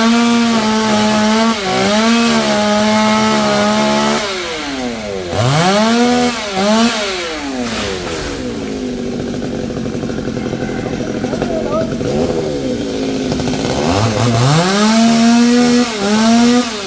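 A chainsaw cuts through a coconut palm trunk, the loud engine revving up and down in repeated surges, bogging under load and climbing again, with people talking over it.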